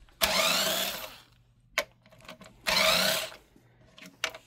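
An electric screwdriver backs screws out of a Bose Bass Module 500 subwoofer, two loud, close whirring bursts of about a second each, separated by small clicks and taps.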